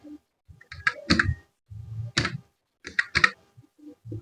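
Typing on a computer keyboard while entering a spreadsheet formula, a few close clusters of crisp key clicks separated by brief pauses.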